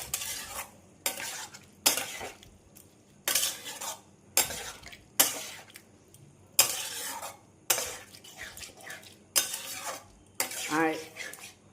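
Lentils being stirred into a fried spice mix in a pan, with a utensil scraping and clinking in repeated strokes over a soft sizzle, close and fairly loud, with no speech.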